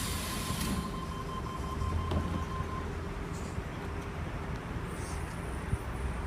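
A Sydney Trains T89 electric set pulls away from platform 4 at night, a steady low rumble and broadband hiss with a faint thin tone, moderately distant and continuous.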